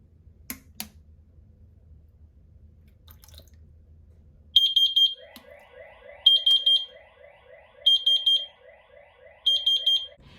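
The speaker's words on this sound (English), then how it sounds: "it starts sending out an alarm that's really loud" A Wi-Fi water leak detector alarm beeps loudly in repeated bursts of rapid high chirps, four clusters evenly spaced, after a quiet stretch with a faint hum.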